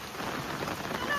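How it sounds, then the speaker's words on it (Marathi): Steady rain falls outside during monsoon season in Amboli, a close, even hiss with no clear drops or thunder, carrying on unbroken for a moment. "मस्त थंडगार बाहेर पाऊस"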